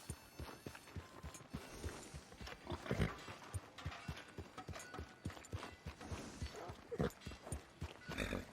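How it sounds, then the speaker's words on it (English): A horse in Red Dead Redemption 2 trots along with a steady, fairly close clip-clop of hooves against a low outdoor background, and a faint whinny now and then. "Horse here."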